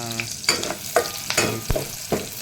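Onions and garlic sautéing in a pan, with a steady sizzle broken by repeated scraping strokes of a spatula stirring, close and fairly loud, with no voices.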